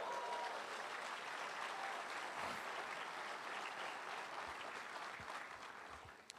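A church congregation applauds during a service that is also streamed live. Dense, even clapping from many people carries throughout and tapers slightly toward the end, with no talking over it.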